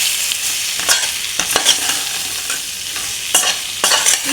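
Raw green mango pieces are stirred with spices in a hot pan, loud close scraping strokes of a spoon at an uneven rhythm over a steady frying sizzle.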